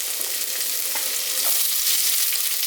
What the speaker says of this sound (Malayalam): ഇഞ്ചിയുടെ കൂടെ തന്നെ നമുക്ക് സവാളയും കൂടെ അങ്ങ് ഇട്ട് കൊടുക്കാം.